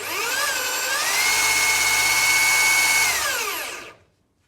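A motorised table feed on a mill-drill runs slowly with a steady, close electric whine and gear hum that rise slightly in pitch, hold for a few seconds, then dip and stop, leaving silence at the end.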